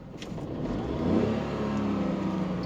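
The diesel engine of a used 2019 Tata Tiago XZ hatchback runs steadily and swells briefly as if revved, heard up close with no talking.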